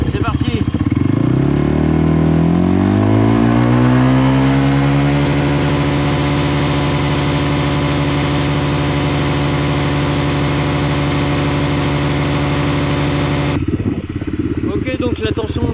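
Quad bike engine revving from idle up to a sustained high, steady drone, pitch rising over several seconds and then holding loud and close before dropping back near the end.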